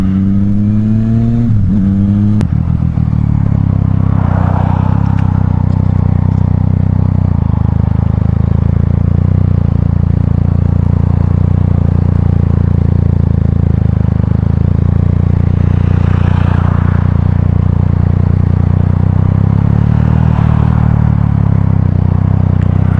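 A Yamaha MT-09 motorcycle riding on a road, its engine droning loud and steady with a low rumbling tone throughout, wind rush layered over it and a few swells as the throttle changes.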